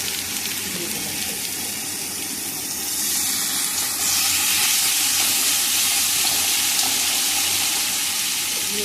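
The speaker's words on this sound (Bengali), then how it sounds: "এবার আমি দিয়ে দেবো টমেটোটা, কেটে রাখা টমেটো।" Chopped tomatoes land in a pan of fried onion, garlic, ginger and green chili, setting off a loud, steady sizzle and hiss that swells partway through and keeps going without a break.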